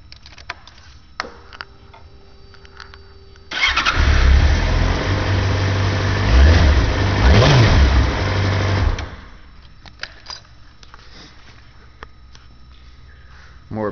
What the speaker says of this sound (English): Start it up so you can hear it run.